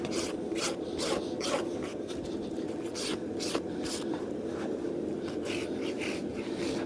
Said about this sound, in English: Again, I'm trying to limit my rasping.